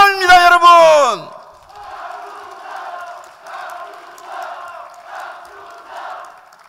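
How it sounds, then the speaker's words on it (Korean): A crowd at a party's presidential candidate selection rally in Korea cheers in rising and falling waves after a brief amplified voice, moderately loud and somewhat distant. "다시 한번 큰 박수 부탁드립니다."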